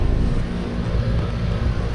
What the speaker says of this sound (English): Running in heat mode, obviously.